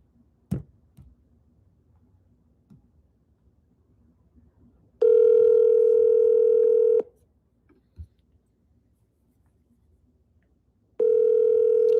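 A call rings out to a realtor's mobile phone: two long, steady ringback tones, a few seconds apart, with quiet line hiss and an occasional click between them.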